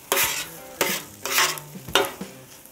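Fatty pork sizzles in avocado oil on a Camp Chef Explorer griddle top, broken by four sharp scraping stirs of a spatula against the metal surface, close and fairly loud.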